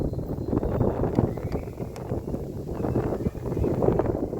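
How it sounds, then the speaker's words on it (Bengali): Strong wind in London buffets the microphone in a steady, rumbling roar with gusty swells throughout. "আর হাওয়া দিচ্ছে প্রচন্ড হাওয়া"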